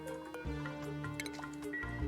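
Water dripping and gurgling out of a pipe in the colony-building game Oxygen Not Included, a few soft liquid drips and squishy trickles over a steady low game hum, with no talking.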